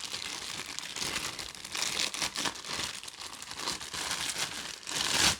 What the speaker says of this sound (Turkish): Poşetimizi açtık.